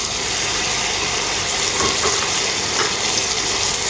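Onions and tomato sauté in a pan for a mutton gravy, making a loud, dense, continuous sizzling hiss with no pauses over a few seconds.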